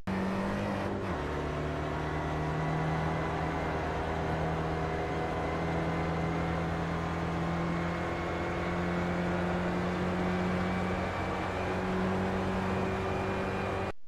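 An SRF race car engine drones at steady high revs down a straight at Summit Point in iRacing, its tone holding nearly constant with a slight pitch shift early, loud and unbroken.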